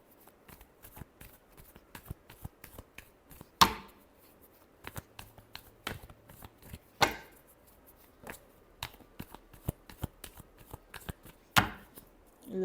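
Tarot cards shuffled by hand, heard as soft, irregular riffling and tapping with a few sharper snaps of the deck at intervals, close and quiet with no talk.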